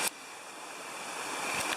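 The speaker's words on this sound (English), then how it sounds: "Here's where the water is flowing into the tubs" Water pours into the rock pools known as the Indian bathtubs along Bull Creek, a steady close rushing wash with no voices over it.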